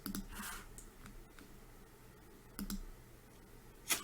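A few scattered clicks and keystrokes on a computer keyboard while searching a product research site, spaced irregularly and fairly quiet against a low room hum.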